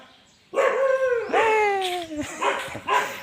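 Dogs at a Thai temple bark and howl in a drawn-out, wavering series, loud and close, with several overlapping yelps and whines and no talk over them.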